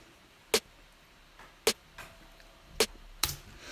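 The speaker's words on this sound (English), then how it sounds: "And the snare drum sounds like this" Four snappy electronic snare hits sound on their own at an even pace, each a bright crack with a quick decay.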